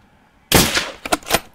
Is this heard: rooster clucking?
no